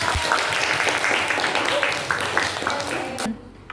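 A class of eighth-grade students in a school counseling lesson claps together in dense, lively applause for about three seconds. It then cuts off abruptly.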